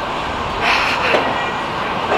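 Steady rumble of a train in a city rail station, with a continuous broadband roar and faint wheel noise throughout, close and fairly loud, no talking.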